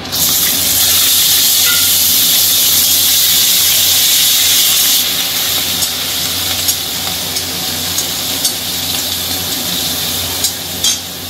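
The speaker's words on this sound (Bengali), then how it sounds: "ছোলাগুলো একটু ভেজে নেব।" Chickpeas frying in hot oil with cardamom, cinnamon, cloves and cumin: a loud, continuous close sizzle that settles slightly after a few seconds, with occasional clicks of stirring against the pan.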